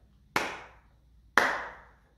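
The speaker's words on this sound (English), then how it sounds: "I'm going to clap this one out" Two crisp hand claps, spaced about a second apart, beat out the syllables of a word in a quiet room, each sharp and close with a short decay.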